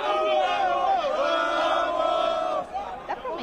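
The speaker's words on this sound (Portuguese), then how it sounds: "Deu pra sentir como é que tá a torcida do São Paulo." A large crowd of São Paulo football fans sings a chant together in a stadium, a loud, sustained mass of voices with swelling melody, easing slightly near the end.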